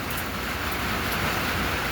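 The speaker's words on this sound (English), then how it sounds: "Gonna do a little clip of the rain." Rain falling outdoors, a dense, steady broadband wash with no distinct drops standing out, fairly loud and unbroken, no talking.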